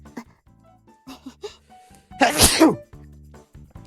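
A single loud sneeze bursts out midway, surrounded by quiet background music and faint sounds.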